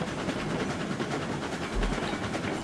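Cook Consolidation steam locomotive running in the RailRoads Online video game, a steady rolling rumble of rail travel with faint rhythmic clatter, continuous and moderately quiet throughout.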